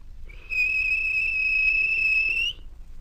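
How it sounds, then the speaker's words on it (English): A railway guard's whistle on a steam-train platform gives one long, steady, shrill blast lasting about two seconds, loud and close, with nothing else heard. "The guard blew his whistle."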